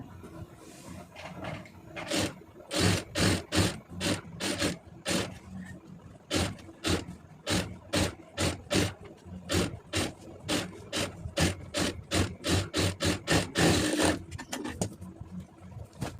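Sewing machine stitching lining fabric around a lace neck design, heard as repeated rapid bursts of mechanical stitching with short pauses between runs, close and fairly loud.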